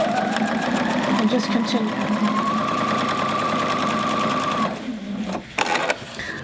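A sewing machine runs steadily in a rapid mechanical whir, stitching bias binding onto a sleeve, then briefly slows and stops; someone talks over the stitching.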